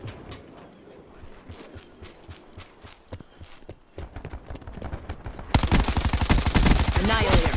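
Annihilator revolver in Black Ops 4 fires a run of sharp, punchy shots, quieter and spaced at first, then a loud dense burst of rapid reports over busy game noise near the end.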